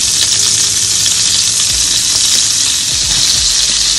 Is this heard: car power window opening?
no